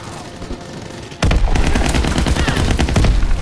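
Automatic gunfire in Call of Duty: WWII bursts in abruptly after a quiet second, a loud, continuous rapid-fire volley with dense, rattling shots that carry on to the end.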